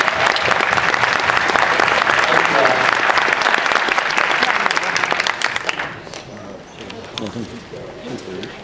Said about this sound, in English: Let's hear a applause